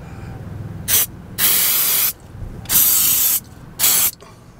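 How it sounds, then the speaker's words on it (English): Four sharp bursts of silicone spray hit the tracks of an RV's hydraulic slide-out, loud close hisses of uneven length separated by short pauses over a faint background. "So I spray a little silicone up on those tracks as well."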